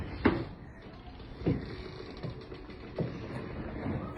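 A Murphy-style couch bed in a resort villa room is pulled down, giving a few soft creaks and mechanical clunks spaced about every second and a half, quiet and close with light room hiss between them.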